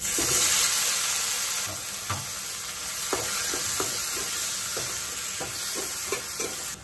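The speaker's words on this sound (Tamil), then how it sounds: "தக்காளி ஓரளவு வதங்கட்டும்." Chopped onion and a large cut tomato sauté in a pan for a village-style ground-masala curry with sundakkai, giving a steady loud sizzle with occasional stirring scrapes throughout and no talking.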